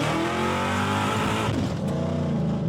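Supercharged Cobra roadster accelerating hard at higher speed, a loud, continuous close engine roar with rising harmonics and a brief shift-like dip midway before pulling again.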